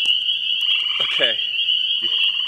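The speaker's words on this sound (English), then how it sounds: "This is April, and that's a gray tree frog." A gray tree frog at a vernal pool in April gives a loud, close, high-pitched trilling call that runs nearly unbroken, with a few brief lower chirps and croaks mixed in.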